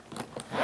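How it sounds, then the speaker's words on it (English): A carry-on suitcase zipper is drawn closed in a very brief, soft, close-up ratcheting rasp, a few quick scratchy ticks rising into a smoother pull. "I don't know if you can hear how nice that zipper sounds"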